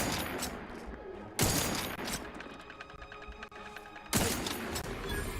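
Gunfire in The Outer Worlds 2, rapid bursts of shots cracking out in two loud volleys with a ringing, humming battle din between them, no voices.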